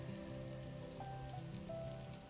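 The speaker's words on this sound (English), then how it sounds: "This rain is pouring down. It's knocking on this roof" Steady heavy rain drums on a roof overhead, a dense continuous patter with a low hum underneath and no voices.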